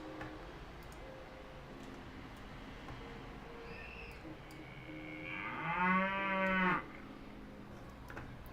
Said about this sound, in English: A moo sound effect.